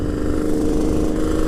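A Kawasaki H2 750 motorcycle engine drones steadily while being ridden, a continuous mid-pitched two-stroke hum held at an even speed without obvious revving, loud and close throughout.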